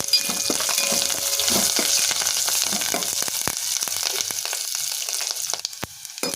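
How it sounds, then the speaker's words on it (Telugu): Continuous crackling sizzle of curry leaves frying in a pan, with scattered sharp pops and spatters that thin out toward the end. "కరివేపాకు వేసుకొని ఫ్రై చేసుకోవాలి"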